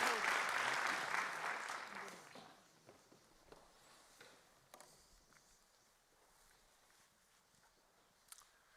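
Audience applause welcoming chemist Dr. Morten Meldal onto the stage, loud and full for about two seconds before fading into scattered claps, footsteps and faint stage noise.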